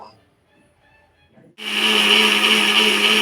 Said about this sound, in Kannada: ಕಡಲೆ ನೆನೆಸಿಟ್ಟಿದಂಥ ಅಕ್ಕಿ ಹಾಗೆ ಗಸಗಸೆ ಏಲಕ್ಕಿ ಇದಿಷ್ಟನ್ನು ಹಾಕಿ ರುಬ್ಕೋಬೇಕು